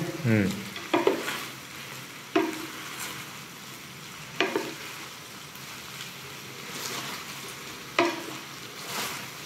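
Sweet and sour prawns stirred in a sizzling wok: a soft continuous fry hiss broken by several sharp metal scrapes and clanks of the spatula at irregular intervals, close by and without talking.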